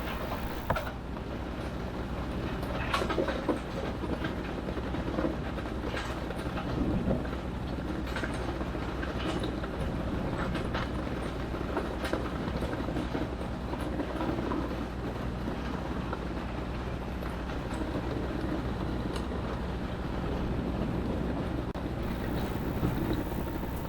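A tractor works a gravel road, tearing up material, with a continuous heavy engine rumble and scattered clanks and scraping from the equipment, steady and fairly close.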